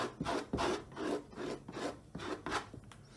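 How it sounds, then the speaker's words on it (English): Bowl scraper dragging cold wax paint across a board primed with sand and gesso, making a series of rhythmic, close rasping strokes, about six pulls repeating steadily with brief gaps and no talk. "I'm just going to pick some up on the side of the scraper, like that, and just start pulling it onto"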